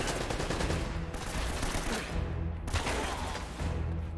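Sustained turret machine gun fire in Uncharted: Drake's Fortune, a dense continuous rattle of shots with brief dips, loud and close throughout, with no voices.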